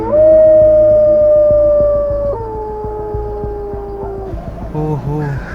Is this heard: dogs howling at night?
yes